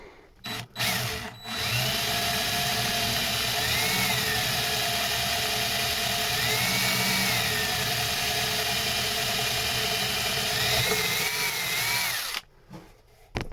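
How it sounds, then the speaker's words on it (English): A power drill bores steadily through a marked workpiece for about ten seconds, a loud continuous whine starting and stopping with brief bursts at either end. "Drilled through it, hasn't broke out the back."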